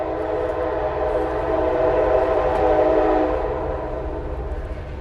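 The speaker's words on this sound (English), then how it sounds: "We're going to let the train roll through." A train rolls past with a loud, steady rumble and sustained horn tones that swell to a peak midway and then ease off, heard alone with no talking.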